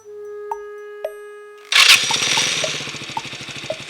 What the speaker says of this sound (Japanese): セルモーターを回してエンジンをかけてみましょう。